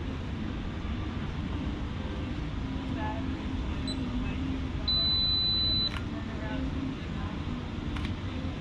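A Fuji X-T3 camera's two-second self-timer gives off a high electronic tone, heard as one sustained beep of about a second plus a few short blips. It sits over steady outdoor crowd noise at Magic Kingdom.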